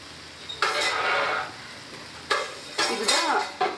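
Salted chicken for biryani cooks on low heat in a pot, heard as a few short bursts of metal-on-pan scraping and stirring over a soft, faint sizzle.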